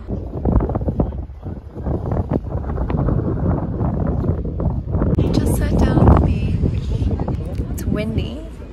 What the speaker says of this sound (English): windy, but not like last time. This is like an average windy.